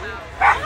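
A dog gives a short yipping bark up close, quick and high, amid a background of voices at a Halloween dog parade in a New York City park.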